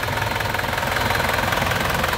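Diesel idle of a 2006 Isuzu Panther 2.5 LS manual, a steady close rumble with an even rhythmic knock, running alone without talk.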